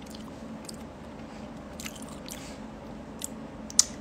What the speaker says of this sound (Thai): ขออนุญาตเคี้ยวแป๊บนึง